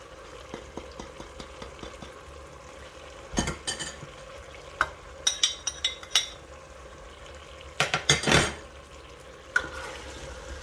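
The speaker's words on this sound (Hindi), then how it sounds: "अब इसको अच्छी तरह से भून लूँगी" Chicken with black pepper, garam masala and kasuri methi frying and being stirred in a pan, a low steady sizzle under scattered clinks and scrapes of a utensil, with a few louder scraping bursts.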